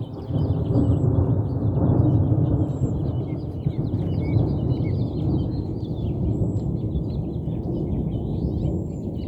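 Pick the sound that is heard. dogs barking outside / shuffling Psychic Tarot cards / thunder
thunder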